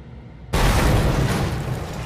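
An explosion in the Mad Max video game bursts suddenly out of near silence, a loud booming blast that sustains as a rumbling roar for over a second.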